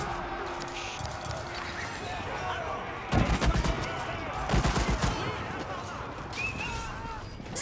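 Musket volley in Age of Empires 4, a medieval strategy battle: crackling bursts of massed gunfire in two clusters around the middle, layered over battle noise, hoofbeats and someone talking throughout.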